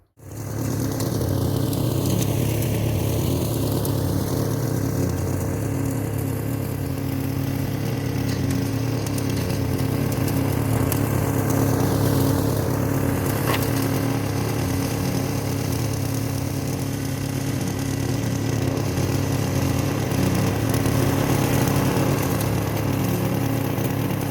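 Mac Allister MLP300SP40 petrol lawn mower, self-propelled, running at full throttle while mowing grass: a steady, loud engine drone holds for the whole stretch, with small shifts in pitch as the load changes.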